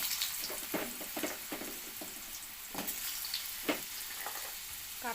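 Potatoes and jackfruit seeds fry together in a pan, giving a steady sizzle with repeated scraping stirs of a spatula at close range and no talk.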